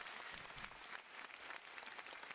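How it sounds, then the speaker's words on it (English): A canned applause effect is set off by a button press, giving a steady wash of clapping that sounds faint and slightly off. "I fucked up my button pressure so the applause sounded weird"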